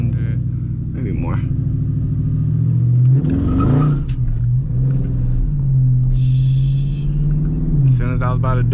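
A 900whp Cobra car pulls hard in first gear, its deep engine note rumbling and rising under a voice, with a strong steady drone through most of the stretch.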